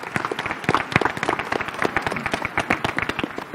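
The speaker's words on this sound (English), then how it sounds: "Can we just get a round of applause for this graduating class" Scattered, uneven clapping from a graduation audience at a high school ceremony, individual claps distinct and fairly close, rising and falling in a loose rhythm.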